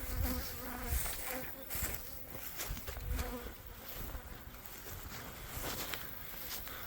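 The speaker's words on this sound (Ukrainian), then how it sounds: "А вже бджоли нападають." A dense, steady buzz of many bees at an apiary fills the air outdoors, continuous throughout with faint rustling and no talking.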